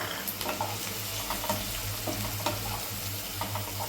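Onion frying in hot oil in a pan for a spicy egg masala, a steady soft sizzle with light crackles and faint stirring, no talk.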